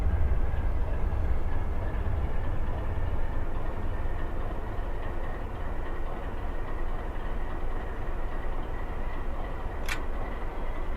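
Freight train rolling slowly in the Run 8 simulator, a low steady engine rumble and rolling drone throughout, with a brief sharp tick near the end.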